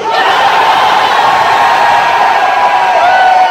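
A huge stadium concert crowd at Twickenham in London roars and screams continuously during a sound check, a loud, sustained wall of cheering and whooping with no break.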